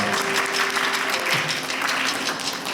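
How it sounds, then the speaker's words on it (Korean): A church congregation claps steadily to welcome a newcomer during a Sunday worship service, a dense, even wash of applause filling the room for a few seconds, with faint tones lingering underneath. "함께 박수를 한번"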